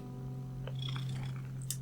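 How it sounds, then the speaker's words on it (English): A cat purring close by, a soft continuous low rumble that stays steady throughout, with a few faint light rustles over it. "my cat has been joining us"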